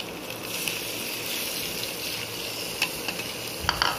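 Chopped tomatoes for pav bhaji sizzle and hiss in a hot pan over a full flame, a steady soft frying noise broken by a few sharp scrapes and clicks as they are stirred.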